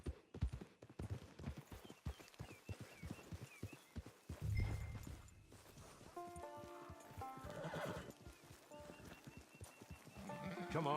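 Horse hooves clip-clop in Red Dead Redemption 2 as a horse moves near the camp, with a whinny and a scattering of faint game music and ambient sound around the steady footfalls.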